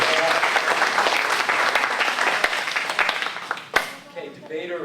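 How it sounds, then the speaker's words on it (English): Audience applause after a speaker's introduction, a dense steady wash of clapping that fades out near the end as voices start talking. "Big round of applause for Art Lady, everybody"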